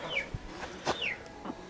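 Domestic chickens kept on a small backyard holding in Kozarac cluck in short, scattered calls, a few sharp nearby bursts over quiet farmyard background.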